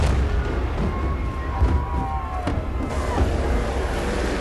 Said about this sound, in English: And now the building comes down.